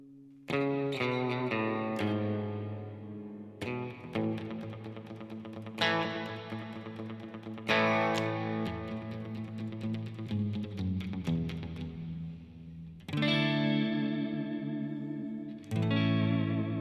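An electric guitar played through an ambient air reverb effect, with chorus-like shimmer and light distortion, strumming and picking chords whose notes ring out and decay into a wide washy tail, loud and alone.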